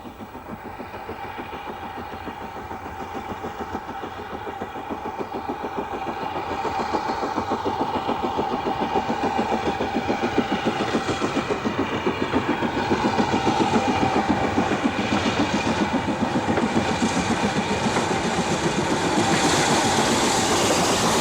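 Ex-Western Region BR Standard Class 4 steam locomotive 75027 hauls a freight train with a steady, loud rhythmic chuffing and rolling clatter that builds slightly as it draws nearer, no voices.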